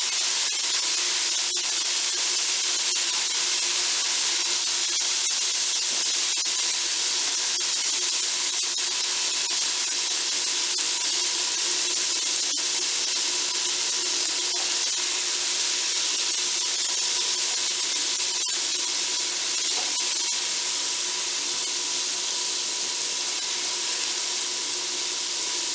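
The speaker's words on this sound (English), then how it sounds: "Stir them up in that nice bacon grease." Onions and garlic sizzling hard in hot bacon grease in a pan for kale, a steady loud hiss with scattered crackles and pops throughout, no talking.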